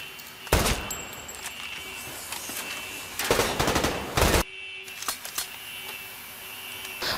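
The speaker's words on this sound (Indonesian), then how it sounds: "terjadilah baku tembak" Gunfire in a movie gunfight scene comes as loud bursts of rapid shots and sharp single cracks over a steady background hum, with several distinct volleys spread across the stretch.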